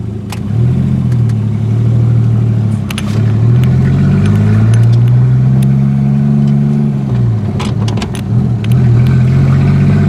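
An old Studebaker car, started after forty years sitting in a barn, drives down a driveway with its engine loud and near, a rough steady drone that rises and falls in pitch as it revs, with no talking.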